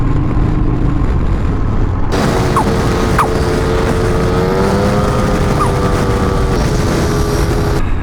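A motorcycle ridden along a road after a hospital stay drones steadily, its engine tone shifting in pitch as it rolls, wrapped in constant wind rush at close range.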